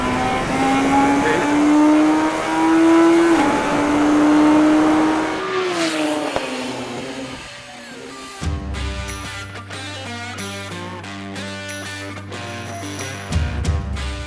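A Radical race car on a circuit, its engine screaming loud and close as it accelerates and holds revs, then easing off before background music takes over.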